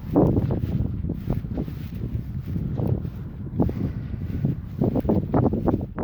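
Steady wind buffeting the microphone, a constant low rumble with gusty surges throughout, loud and close, with no voices.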